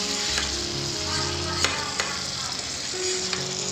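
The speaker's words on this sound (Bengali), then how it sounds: "মশলার সাথে চিকেনটা কষাবো" Loud, continuous sizzling of chicken frying with spices in a pan, with a few sharp scrapes and clinks of stirring.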